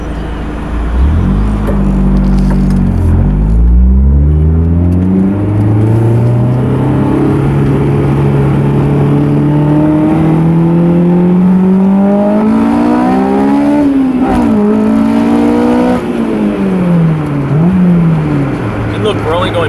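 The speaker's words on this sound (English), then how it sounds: "We're just accelerating like any other car to get to the same speed as" A car engine revs up steadily through the gears while accelerating to about 50 mph, its rising tone sweeping upward with brief dips at shifts, loud and close, with talk over it; the car is a Honda or Acura VTEC model such as an S2000, Civic Si, TSX or TL.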